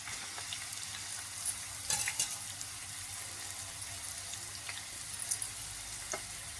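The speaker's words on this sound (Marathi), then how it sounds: "तेल तापले, त्याचा कांदा फोडणीला घालते." Onion frying in hot oil in a pan, a soft continuous sizzle with a few sharper crackles and scrapes of stirring, fairly quiet and close, with no one speaking.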